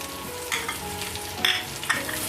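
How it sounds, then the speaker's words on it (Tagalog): Garlic and white onion frying in a pan are stirred with a utensil, giving a few scraping strokes over a steady, close sizzle. "Halo-haloin lang natin hanggang sa mag-translucent yung ating onion."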